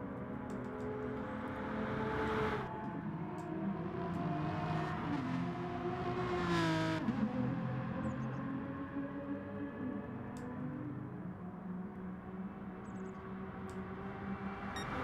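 Race car engines held at full throttle down a straight in Gran Turismo Sport during an endurance race in France, a steady layered whine of several cars, one pitch sweeping upward and falling away mid-way, moderately loud with no talk.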